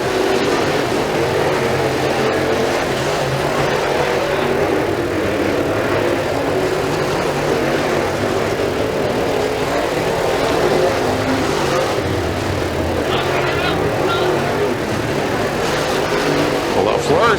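Late model race cars roar around the turns of a short oval track in a RUSH Late Model feature at Freedom Motorsports Park, a steady loud engine drone lasting throughout, with a commentator talking over it.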